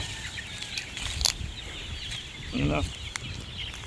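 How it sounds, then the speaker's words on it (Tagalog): Chicks and chickens on a farm in the late afternoon, with soft clucking and scattered peeps over a busy outdoor background, a louder burst of calls near the end. "tapos ito yung sisiw pakita ko sa inyo"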